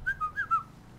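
Whistling in the GTA 5 Online video game, four quick rising and falling whistled notes in a short phrase, fairly faint over quiet background.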